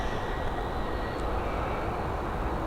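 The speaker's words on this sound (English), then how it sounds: "That was that Origny Air Services flight to Guernsey safely departed." An Aurigny Air Services airplane bound for Guernsey departs Dublin Airport, its engines giving a steady broad roar that holds at an even level throughout, distant and unbroken by speech.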